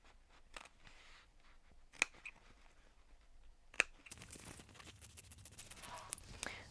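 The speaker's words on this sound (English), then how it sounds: "we're going to cut down the middle of that rectangle" Scissors cut through waterproof canvas with a handful of sharp snips and crisp crunching close by, building into denser, rougher cutting noise toward the end.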